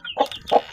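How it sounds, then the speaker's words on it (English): A farm chicken of a local breed clucks twice in quick succession, close and clear, with no talking over it. "you can see this chicken"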